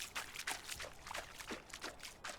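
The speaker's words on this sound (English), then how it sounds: "I just went and dunked myself in the water." Repeated watery splashes and trickles as a character dunks into water in the medieval survival game Medieval Dynasty, soft and fairly close, spread across a few seconds with no talking.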